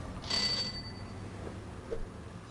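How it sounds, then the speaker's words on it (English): A bell rings once in the video game Gabriel Knight: The Beast Within, a bright, clear ding that fades, followed by a faint tap near the end. "Ring the bell. Ring the bell."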